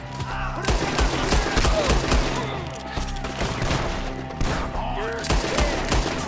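Gunfire in the Red Dead Redemption 2 video game: repeated sharp shots in uneven bursts, loud and close, mixed with shouting voices and other game sounds.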